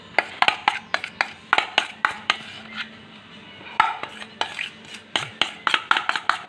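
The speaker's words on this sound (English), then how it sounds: "I'm going to get it all out of the bowl so you're not wasting any" A spoon or spatula scrapes and knocks against a bowl, clearing out chocolate icing for coconut bars. The sharp clinks and scrapes come in quick irregular runs, close and fairly loud, with no voices.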